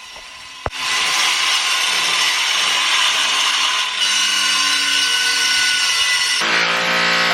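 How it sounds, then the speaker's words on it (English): Power grinder cutting into brick in a garage wall, a loud sustained high whine running for several seconds without a break, close up, shifting pitch near the end as the tool bites differently. "chopping out the bricks that we need to tooth into the garage wall. Grind them out, drill them out, knock them out."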